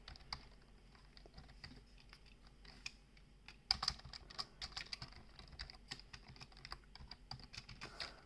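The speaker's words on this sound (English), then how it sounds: "So I just type in something like," Typing on a computer keyboard while making a code change to an operating system kernel, with quiet, irregular clusters of key clicks throughout and a brief louder flurry partway through, with no talking.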